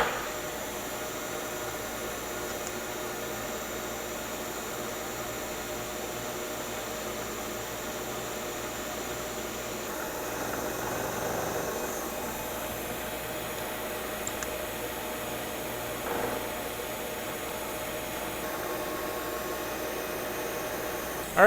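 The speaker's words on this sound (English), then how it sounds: "We're climb milling this. This machine climb mills beautifully" A milling machine climb milling an 8-foot steel bar gives a steady, moderately loud broadband whir and hiss, constant throughout with slight swells midway and no voices.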